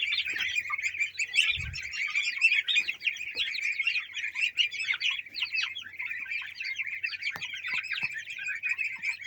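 Many small birds and goslings chirp busily while being fed clover in a heated greenhouse, a dense, continuous chorus of high peeps close by, with a brief low thump partway through.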